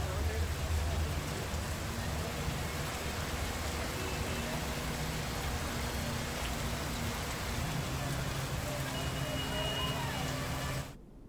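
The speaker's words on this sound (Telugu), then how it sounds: "హైదరాబాద్, రంగారెడ్డి జిల్లాల్లో శుక్రవారం భారీ నుండి అతి భారీ వర్షాలు కురిశాయి" Heavy rain pours down in Hyderabad as a steady, dense hiss that holds at an even level throughout, then cuts off suddenly near the end.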